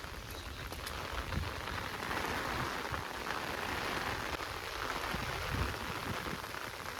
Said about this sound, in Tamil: மழையை பார்த்தீங்களா,